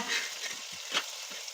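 Large chicken pieces for mandi biryani frying in oil, a brief close crackling sizzle with a couple of stirring scrapes, no speech.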